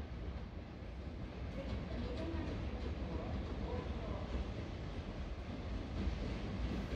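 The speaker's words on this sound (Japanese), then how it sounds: "6時18分、貨物列車がやってきました。" A freight train hauled by an EF210 electric locomotive rolls into Soga Station at dawn, a steady broad rumble of wheels and cars that fills the whole stretch at moderate distance, with no clear individual clacks.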